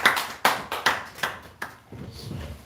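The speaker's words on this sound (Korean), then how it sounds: "우리 하나님께 영광의 박수 올리겠습니다" A church congregation applauds together in a series of sharp, rhythmic bursts of clapping up close, fading into a softer murmur at the end.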